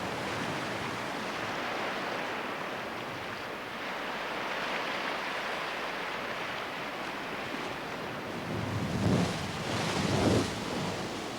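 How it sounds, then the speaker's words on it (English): Sea waves surge into caves in coastal cliffs, forcing trapped air out through blowholes: a continuous rushing roar that swells into heavier, louder bursts toward the end, with no voices. "Waves surging in compress the air trapped within the cave. Until the pressure builds and it blasts its way out."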